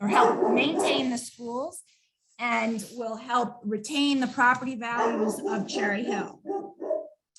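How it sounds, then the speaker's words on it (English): A dog barks and yips repeatedly in the background of a speaker's comment at a board of education meeting, mixed in with and partly masked by the person talking. "I'm so sorry about my dog."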